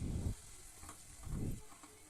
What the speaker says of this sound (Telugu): నూనెలో వేసి ఎత్తుకొని బాగా కాలుతాయి